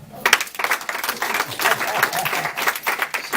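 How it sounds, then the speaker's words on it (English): A church congregation claps hands in a lively burst of applause, with uneven, overlapping claps close by throughout the short stretch. "Let's put our hands together for"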